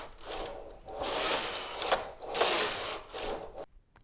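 Carriage of a domestic knitting machine pushed back and forth across the needle bed, giving close rasping, ratcheting sweeps in about three passes with short pauses, no voices.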